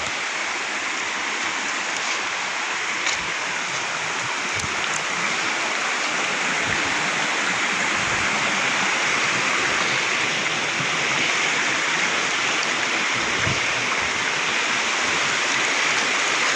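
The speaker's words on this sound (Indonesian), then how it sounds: "Sungai Tembolon." A river called Sungai Tembolon flows through a village forest, giving off a steady, full rush of water that holds at even loudness throughout, with no talk over it.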